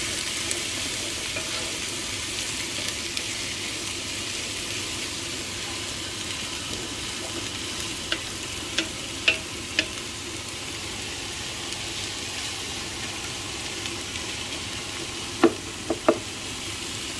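Onions frying in a pot for abgoosht, a steady low sizzle with occasional light clicks and taps of a utensil, quiet and continuous.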